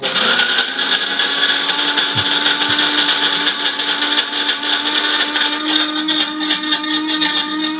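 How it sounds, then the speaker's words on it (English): An electric coffee grinder grinds beans in one loud, steady, high-pitched whir that runs close and unbroken for the whole stretch, with a couple of small low knocks early on. "My coffee grinder makes a lot of noise"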